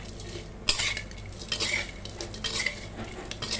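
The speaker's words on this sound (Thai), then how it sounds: "เราผัดพริกกระกากหมูก่อนเลยนะคะ" A utensil scrapes and knocks against a pan in repeated stirring strokes, stir-frying chili and pork cracklings over a faint sizzle of frying, close and with no talking.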